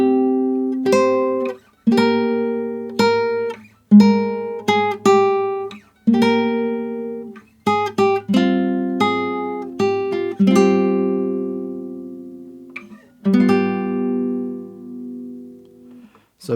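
A classical guitar plays the opening line of a melody, plucked notes and paired dyads ringing out one after another in a slow, clear phrase, close and solo with no voice.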